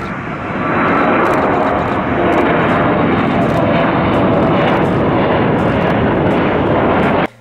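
Loud, continuous buzzing roar of a small model airplane engine close by, holding steady for several seconds before cutting off abruptly.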